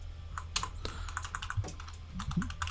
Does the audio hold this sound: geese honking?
no